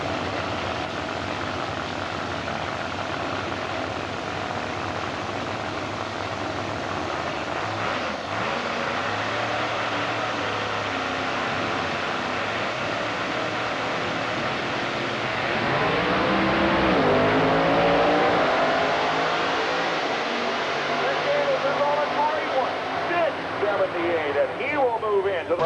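Pro Mod drag race cars, a Dodge Avenger and a winged Corvette, at a 1995 IHRA quarter-mile event in Bristol, Tennessee; a distant engine roar swells and fades under continuous announcer commentary and crowd noise.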